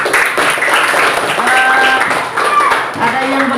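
Short burst of classroom applause for a student after her presentation, several pairs of hands clapping briefly and fairly close, with murmuring voices mixed in.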